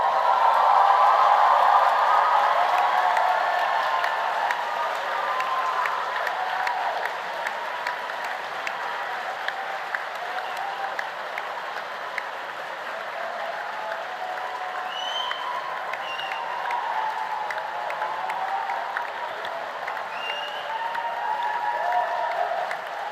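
A large audience at a UCL medicine graduation ceremony applauds steadily for over twenty seconds in a big hall, with scattered cheers over dense, even clapping that eases slightly midway.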